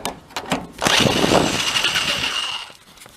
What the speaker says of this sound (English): And I'm hoping to knock this hinge out.